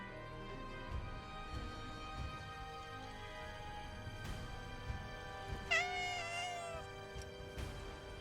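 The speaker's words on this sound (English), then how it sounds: "Luckily it's just one cat" A cat meows in Final Fantasy VII Rebirth, one drawn-out, wavering meow rising over steady game music and ambience, with a few faint clicks around it.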